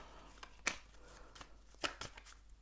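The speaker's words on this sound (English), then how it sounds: "I'm going to shuffle" Gypsy Oracle cards being shuffled by hand, a few quick crisp riffling bursts separated by quiet gaps, close and fairly soft.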